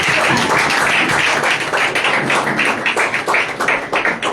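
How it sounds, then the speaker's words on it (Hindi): Church congregation clapping hands together at a Mother's Day service, a dense, steady patter of many claps that fills the room loudly and continuously, with no voices standing out. "let's continue giving the clap"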